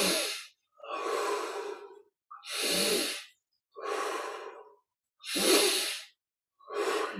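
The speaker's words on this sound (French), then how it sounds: "Expire par la bouche." Six slow, deep breaths during a guided meditation, each a long airy inhale or mouth exhale of about a second, separated by short silences, close and clear with no talk.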